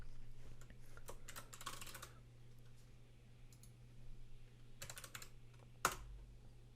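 Close, quiet clatter of a computer keyboard as a username and password are typed, short bursts of keystrokes separated by pauses, with a sharper click near the end.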